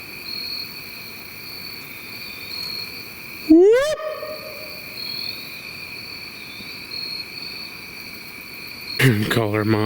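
Crickets chirping in the woods at night: a continuous high, steady trill that carries through the whole scene, interrupted by a brief sweeping whoop and a later burst of noise.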